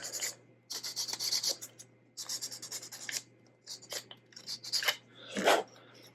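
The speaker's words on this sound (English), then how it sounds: "I'm going to go ahead and sand this one down just a little bit more." A small plastic part of a 1:18 scale JoyToy mech kit being sanded by hand, with short close rasping strokes in uneven bursts separated by brief pauses.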